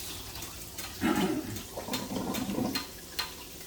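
Water from soaked rice noodles drains and splashes at close range in a home kitchen during Pad Thai prep, in two brief gushing bursts with light clatter around them.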